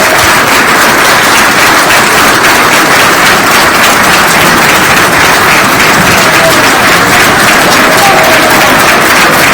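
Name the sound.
standing applause at a hall of fame induction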